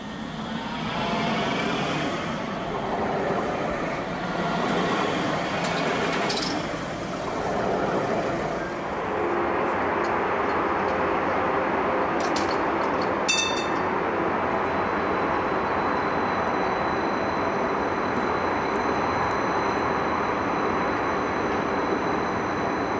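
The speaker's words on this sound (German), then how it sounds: "Zwei Züge dieses Typs sind auf der Linie 15 nach Chorweiler unterwegs." A Cologne Stadtbahn light rail train on line 15 rumbles along the track in a steady continuous roar, with a brief metallic squeal and hiss partway through, close and loud throughout.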